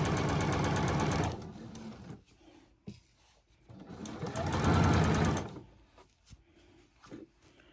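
A sewing machine stitches an infinity scarf in two loud, fast running bursts separated by a pause of soft handling and sliding fabric, close up with no talk.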